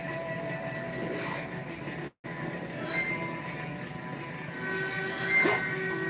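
Train rumble and rattling wheels from the Sonic 06 video game, a steady loud rolling din with a brief dropout partway through and a rising squeal near the end.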